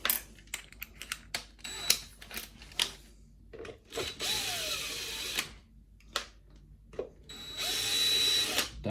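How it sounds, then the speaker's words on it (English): A power drill whirs in short bursts removing screws from a mouse, with clicks and small metallic clatters of screws between runs, close by and fairly quiet. "just for quickness I'm going to use the drill to take the screws out"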